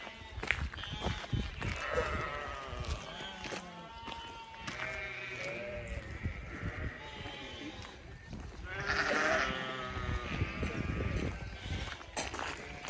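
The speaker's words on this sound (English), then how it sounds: "The sheep feeding." Flock of sheep and lambs bleating repeatedly at feeding time along a countryside walking route, many overlapping calls near and far, with some footsteps and brief human voice in the background.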